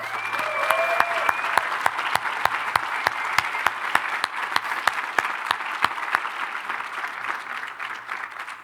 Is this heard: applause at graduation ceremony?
yes